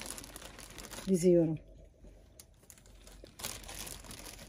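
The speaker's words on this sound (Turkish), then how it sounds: "Şimdi bunları bu şekilde poşetlere itinayla" Plastic freezer bags crinkle and rustle as stuffed grape leaves are packed into them, with bursts of crackling at the start and end around a short spoken phrase.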